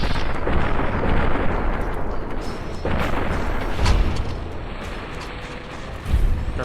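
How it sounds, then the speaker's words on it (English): Rocket launcher blasts in Fallout: New Vegas, a dense, rumbling wash of explosions and booms with a few sharper impacts rising out of the continuous roar. "You gonna snipe me with a rocket launcher"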